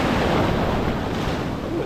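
Ocean surf rolls onto a shore in southern Taiwan, between Kaohsiung and Hengchun, facing the South China Sea and Philippine Sea. A steady, loud wash of waves mixes with wind buffeting the microphone.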